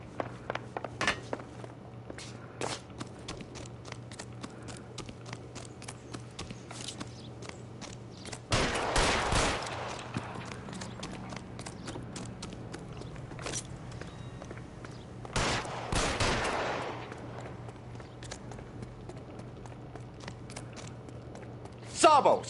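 Gunfire in L.A. Noire comes as two heavy bursts of shots that ring out over a background of small clicks and movement, with voices talking in between.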